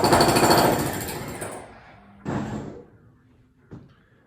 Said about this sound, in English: I'm guessing that's the jackhammer.